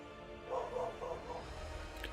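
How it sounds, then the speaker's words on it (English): A female dog gives several quick, excited muffled barks, a short burst of yips heard faintly, as if from another room, with no talk over it. "My dog is going crazy."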